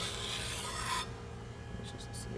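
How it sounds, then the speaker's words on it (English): A kitchen knife blade is drawn along a sharpener in one long continuous rasping stroke, close and steady for about a second, then a few faint scrapes follow. "We want to make sure that we hit all edges of the knife as we're sharpening."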